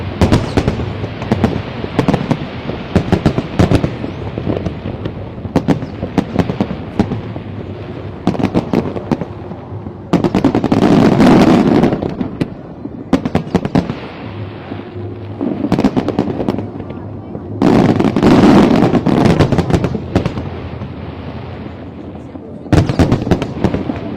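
Chinese Lunar New Year fireworks fire from barges in Hong Kong. Rapid crackling volleys and deep booming bursts come in dense waves, with louder swells near the middle and end, and crowd voices murmur underneath.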